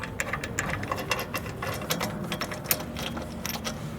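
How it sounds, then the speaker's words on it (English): Metallic ratcheting and clicking from removing the rear brake bolts on a Volvo XC, a quick irregular series of close tool clicks and rattles with no talk. "Now we can remove the bolts."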